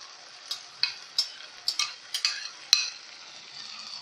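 Tomatoes and tomato paste being stirred in a pan for an okra and meat tagine, a soft sizzle under a series of about eight sharp spoon clinks and scrapes in quick succession, no talking.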